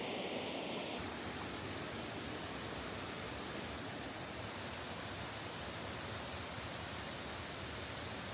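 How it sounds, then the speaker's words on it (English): Horton's Pool waterfall along a heritage trail gives a steady, dense roar of falling water, constant and fairly close, with no voices over it. "And this must be Horton's Poole Waterfall. This is a bigger one for sure."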